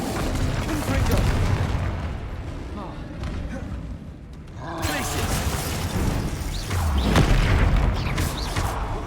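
Blasting-curse explosions from the Confringo spell in the Hogwarts Legacy video game, several booming bursts with rumbling low-end impacts spread across the stretch, a near-silent dip in the middle, and game effects layered throughout.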